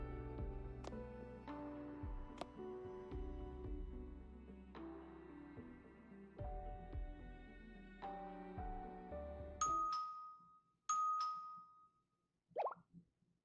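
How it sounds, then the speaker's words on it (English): A doorbell chimes in the video game Blue Archive, ringing twice with bright two-tone dings after a stretch of layered game music, followed by a short rising electronic blip. "The doorbell again?"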